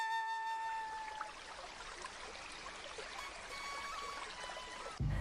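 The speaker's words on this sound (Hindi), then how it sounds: "कविता अपने घर से पानी भरने के लिए नदी की ओर निकल जाती है।" River water flows in a steady, close wash with a faint high tone at the start, followed by an abrupt loud thump at the end.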